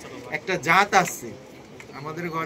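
Domestic pigeons coo in a few soft, throaty bursts, with a person talking nearby over them.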